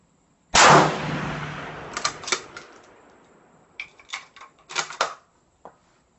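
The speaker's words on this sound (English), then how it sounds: "So 5 shots center mass, and then we'll switch and use the other rifle" A close, sharp rifle shot firing a 140 grain Berger VLD round, followed by a long fading echo across open ground, then a cluster of softer distant cracks and a final faint pop.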